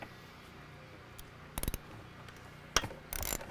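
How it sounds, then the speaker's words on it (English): Wrench ratcheting against the recoil-housing bolts of a cutoff saw during drive-belt replacement, a few short bursts of metallic clicking heard close and alone over quiet room tone. "you want to loosen up these bolts back here on the recoil"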